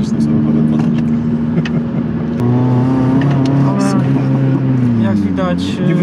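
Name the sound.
Honda Civic Type-R accelerating in third gear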